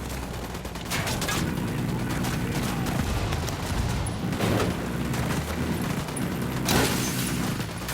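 Gunfire in the video game Ghost Recon Wildlands, loud bursts and volleys of shots with booming impacts, rolling continuously for several seconds.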